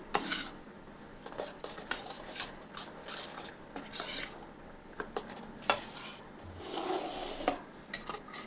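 Dosa batter mixed with half a spoon of salt in a bowl gives quiet, repeated rubbing and scraping strokes with occasional spoon knocks against the rim, fairly soft and close.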